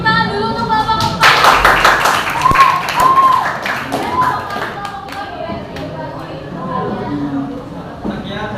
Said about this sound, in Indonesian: kita berikan tepuk tangan dulu untuk kelompok 4